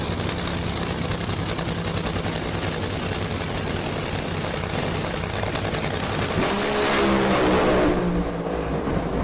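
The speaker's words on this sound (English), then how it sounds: "Hammers on with a busted race car." An NHRA drag race car tearing down the track, a loud, continuous roaring engine blast that swells and shifts near the end, with no voices heard.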